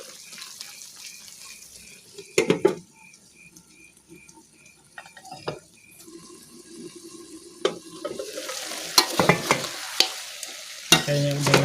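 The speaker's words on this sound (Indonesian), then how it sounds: "Terus bumbu-bumbu yang tadi dihaluskan digoreng." Ground spice paste of shallots and garlic fries in a pan, starting quiet with sporadic clinks and a faint hiss, then growing into louder sizzling with several sharp utensil knocks and scrapes toward the end.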